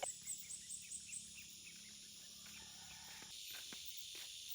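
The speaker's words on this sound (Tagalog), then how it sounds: "puro nga lang talaga ibon ang maririnig mo nga sa bukid" Birds sing in quiet countryside fields, a series of faint high chirps and tweets at the start over soft insect-like buzzing, fading into a low steady outdoor hiss without voices.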